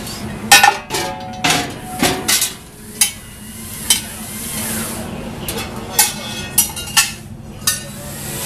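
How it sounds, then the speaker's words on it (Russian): A cast iron bowl is lifted out of the combustion chamber of a Polish MTM waste oil air heater, with a series of sharp metallic knocks and scrapes, some clustered and some spaced apart, close by. "Вынимаем чугунную миску, которая внутри расположена."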